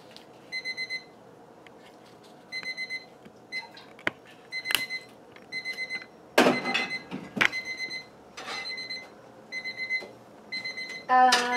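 A kitchen timer set for roasting tomatoes for tomato-basil soup goes off in repeated bursts of bright, fast beeping, sounding near and clear over background kitchen clatter and a few sharp clanks.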